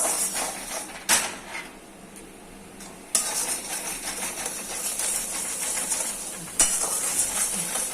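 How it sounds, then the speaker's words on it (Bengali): A spoon scraping and stirring spices in a pan while they are sautéed for potol dorma, with metallic clinks and rattling strokes in bursts, a quieter pause in between and a soft sizzle underneath. "এটা ভালো করে কষাতে হবে"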